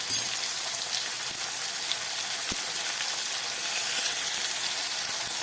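Garlic, ginger and green chili paste fries in a pan with a steady, bright sizzle that holds evenly throughout, close and continuous with no talking.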